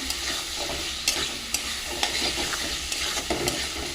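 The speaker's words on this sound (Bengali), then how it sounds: "এবার ডিমগুলো দিয়ে দেবো, দিয়ে কষবো ভালো করে।" Eggs stir-fried in a pan for Bengali egg kosha, a steady sizzle with regular sharp scraping clinks of a spatula roughly every half second, close and fairly loud, no speech.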